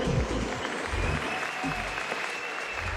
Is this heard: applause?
yes